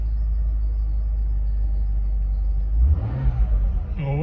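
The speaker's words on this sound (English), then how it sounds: "Anyway, the car is running." A Mercedes C36 AMG engine idles with a loud, steady low rumble that rises into a brief rev near the end.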